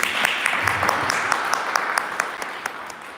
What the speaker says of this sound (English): So please give it another round of applause.